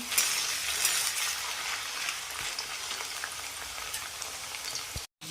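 Potatoes fry in hot oil as they are stirred, producing a continuous close sizzle and crackle with faint scraping and small ticks, ending with a brief cut to silence.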